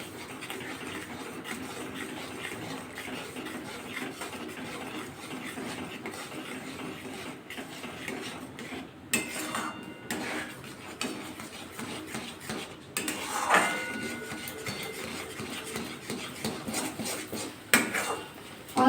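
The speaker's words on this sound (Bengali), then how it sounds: "এবার অল্প অল্প করে সুজি দেবো আর নাড়াচাড়া করবো" Semolina being stirred into hot milk in a pan: a spoon scrapes and knocks against the metal quietly and steadily, with more clatter toward the end.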